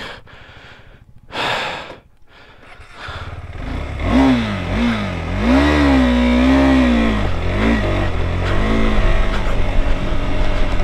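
A KTM 390 Adventure engine climbing an off-road hill in first gear at full power, rising from a low idle into a loud, sustained rev that swells and wavers as the clutch is worked, with brief breathy sounds near the start.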